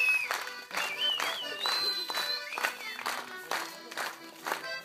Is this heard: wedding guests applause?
yes